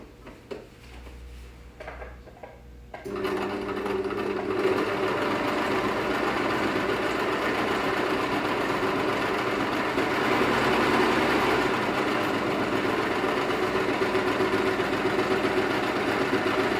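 A sewing machine stitches a seam joining two pieces of fabric, starting after a few seconds of quiet room noise and then running as a steady, continuous mechanical whir at moderate loudness.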